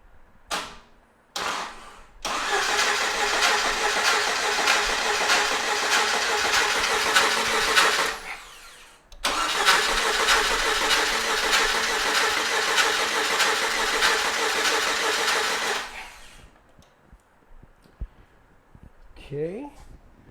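A starter motor cranks the engine of a 1997 Jeep Wrangler in two long, steady bursts separated by a short pause, loud and close, with brief clicks before and a quiet stretch after.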